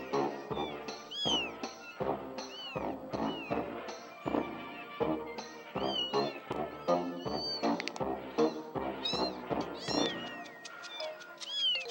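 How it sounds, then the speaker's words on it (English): Repeated cat meows from the video game Amanda the Adventurer 2, a steady series of short, close, loud mews with a few drawn-out cries over twelve seconds. "Miss Cat and her family have to eat after all"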